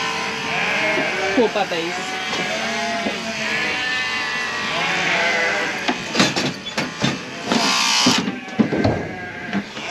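Ewes bleating near a gate after their lambs are weaned, several overlapping wavering calls close by, with a person speaking and clattering gate or metal noises near the end.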